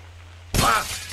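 Glass shattering in the Happy Wheels video game: one loud, sudden crash that bursts in after quiet and rings briefly before tailing off.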